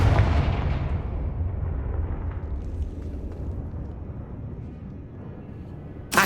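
A Confringo fire spell in Hogwarts Legacy bursts with a heavy, booming explosion at the start, then a long rumbling decay that fades over several seconds, with a sharp new crack at the very end.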